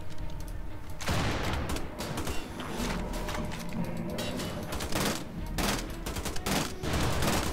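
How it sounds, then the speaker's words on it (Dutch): Rapid, continuous gunfire from two weapons fired at once in Wolfenstein: The Old Blood, a dense, loud clatter of shots with brief surges and pauses, running nearly the whole time with no voices over it. "Ik ga met twee wapens schieten."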